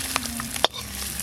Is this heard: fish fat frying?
yes